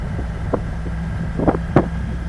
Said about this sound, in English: It's quite breezy through here.